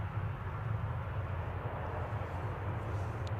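An ATR 72 turboprop airliner at Manchester Airport gives a steady, continuous propeller and engine drone with a low throbbing hum, heard alone at a moderate distance.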